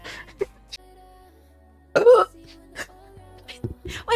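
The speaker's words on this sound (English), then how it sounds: "Wait, that was such a weird burp." A woman burps oddly during a livestream, short guttural bursts scattered among brief vocal noises and a louder central belch, fairly close and alone.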